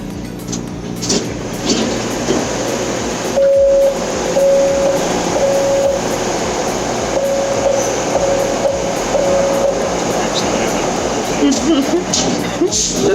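A metro train pulls into an above-ground station in Panama, rumbling loudly close by with clatter, repeated warning beeps and door sounds, while people talk over it.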